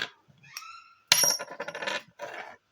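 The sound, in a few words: coin dropped to test silver content by its ring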